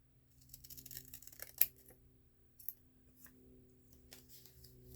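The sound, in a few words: hair thinning shears cutting receipt paper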